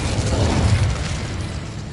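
Incendio fire spell cast in Hogwarts Legacy, a brief dense whooshing burst with a low rumble that swells and then fades over two seconds.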